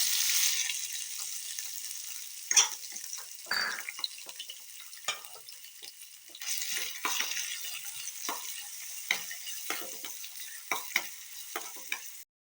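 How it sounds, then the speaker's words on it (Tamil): Chopped capsicum sizzles and is stirred in sesame oil on a pan for pizza dosa, a steady soft frying hiss with scraping stirs and occasional clinks, close and fairly quiet with no talk. "நான் வந்து நல்லெண்ணெய் தான் போட்டிருக்கேன் இதில் இப்போ நம்ம கேப்சிகம் போட்டுக்கலாம்"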